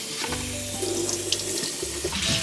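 Tap water running steadily into a sink as a girl's curly hair is wet down for washing, with a continuous splashing flow and light clatter over it.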